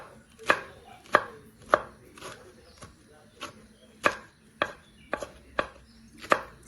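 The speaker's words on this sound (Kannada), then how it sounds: "ಸಣ್ಣದಾಗಿ ಕಟ್ ಮಾಡಿಕೊಂಡು ಸೇರಿಸ್ಕೊಳ್ಬೇಕು." Radish greens are chopped with a knife on a board, about a dozen sharp, distinct thuds at an uneven, unhurried pace, close up and quiet with no talk.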